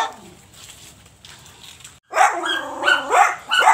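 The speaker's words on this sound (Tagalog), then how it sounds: "Ingay ng aso ko sa mga maraming may tao." A dog barks several times in close, loud bursts with yelping tones, after a quieter stretch of low background noise.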